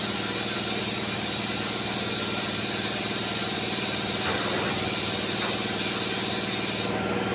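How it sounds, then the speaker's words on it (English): A steady, loud hiss of PVA release agent being sprayed from an air compressor spray gun continues over a running compressor motor hum, cutting off near the end. "now I'm going to spray that PVA on here"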